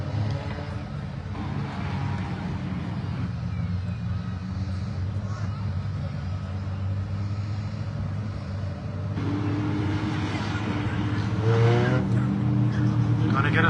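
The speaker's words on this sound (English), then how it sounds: "4 very fast cars up at the front of this one." Race cars rumble and rev together on a dirt track before a feature race at Evans Mills, a steady engine drone that swells louder toward the end under an announcer's continuous commentary.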